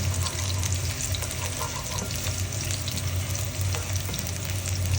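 Food browns in a hot pan while cooking skabetche, a steady loud sizzle and crackle running throughout with faint stirring scrapes, no voices.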